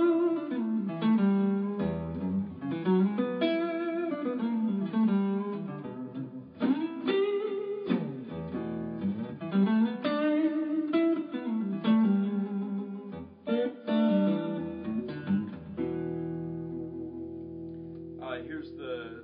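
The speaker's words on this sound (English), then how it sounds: "Here's the sound of the pickups on the neck pickup, just a basic strat sound." A Stratocaster-style electric guitar played through its Curtis Novak neck pickup into an Axe FX preamp, giving a clean basic tone; a continuous passage of chords and single notes rings out loud and close, closing on a sustained chord.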